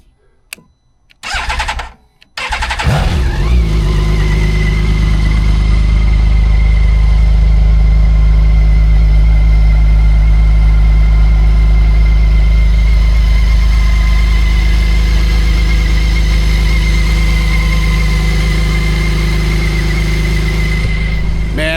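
BMW K 1600 B motorcycle engine cranks and fires after a few brief sounds, then settles into a loud, steady, smooth idle with a constant hum that holds for about twenty seconds.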